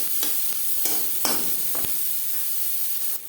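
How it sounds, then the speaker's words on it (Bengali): Carrots stirred and lightly fried with onions in a pan while cooking egg pasta, a steady hiss of sizzling oil broken by a few sharp scrapes and clinks of the spoon, close and alone without voices. "গাজর হালকা করে ভেজে নেব।"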